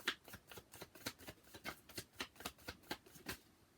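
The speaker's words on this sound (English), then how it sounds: "Not sure why you can't see me shuffling." Tarot cards being shuffled by hand in a steady run of crisp riffling bursts, about three per second, close up and fairly quiet with no talking.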